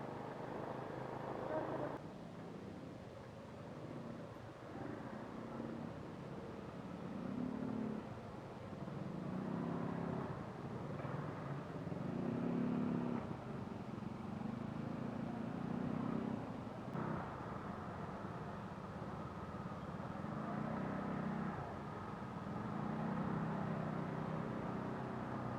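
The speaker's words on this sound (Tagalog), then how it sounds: "Oh, traffic." Road traffic rumbles past at a distance, a low steady drone of cars with occasional swelling engine passes, faint and continuous for the whole stretch.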